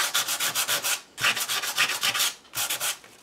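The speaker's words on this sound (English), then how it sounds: "Now I'm going to go in with a little bit of sandpaper and just lift this texture back up" Sandpaper rubbed by hand over textured gesso on a craft piece, heard as quick rhythmic back-and-forth scratchy strokes in three bursts with brief pauses between them, close and fairly loud, with no voices.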